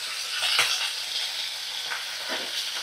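Flat beans sizzle steadily in a hot pan, seasoned with salt and turmeric, a constant close frying hiss with a few soft stirring clicks and no voices.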